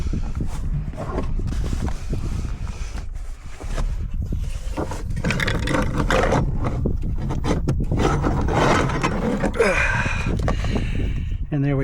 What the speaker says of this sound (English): And now I've got some room to pull the compressor out.